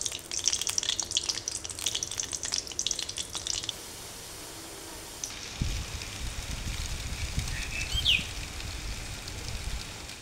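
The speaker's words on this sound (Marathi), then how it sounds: "तेल गरम झालेलं आहे। आता वड्या टाकून घेऊयात आपण" Kothimbir vadi, coriander fritters with sesame, garlic and cumin, sizzling in hot oil, a crackling hiss that softens briefly, then returns with a low splash as more pieces go in.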